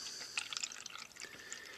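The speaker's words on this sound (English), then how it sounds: "let's fill the cups with water up to the black line so that both cups have the same level" Water poured into cups to fill them to a marked line, giving a faint, continuous trickling with small drips and splashes throughout.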